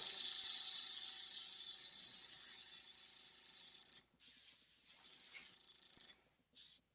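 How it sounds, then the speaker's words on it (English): Gray primer sprayed from an aerosol spray can: a loud, continuous hiss that fades slightly over several seconds, then breaks into short separate bursts with pauses between them. "I'm going to just spray this gray primer on."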